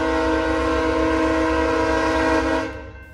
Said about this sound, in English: That was a pretty big stack train.